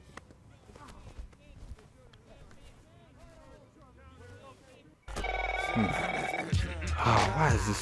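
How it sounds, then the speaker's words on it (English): A phone rings in the football video game Blitz: The League 2, a loud electronic ring that starts partway through after quieter game sounds and voices. "Oh, why is this scrub calling my phone now?"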